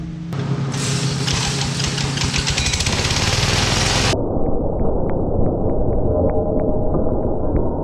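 A go-kart engine idles steadily and loudly up close. A harsher, louder roar fills the first few seconds before it settles into an even idle, with faint periodic ticks over it and no talk.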